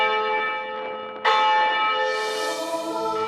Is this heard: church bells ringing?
yes